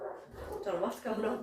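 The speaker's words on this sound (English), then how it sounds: "So sorry about the dog in the background." A dog barks and whimpers faintly in the background of a home podcast recording, soft yips sitting under close conversational speech throughout.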